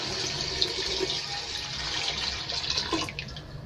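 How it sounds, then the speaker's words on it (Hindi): Water pours steadily into a pot of meat for haleem, about four glasses' worth, with a continuous splashing, running-liquid sound that is close and moderately loud throughout. "4 गिलास हम पानी ऐड करेंगे"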